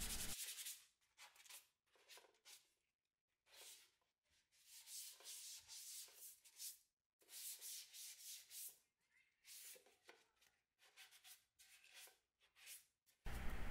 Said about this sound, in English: So I'm just sanding that BIN primer down.